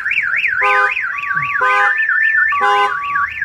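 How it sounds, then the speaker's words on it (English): A truck's car alarm blares continuously, a rapid rising-and-falling siren warble cycling loudly and close, with steady alert tones layered underneath and no voices. "The alarm will fire up."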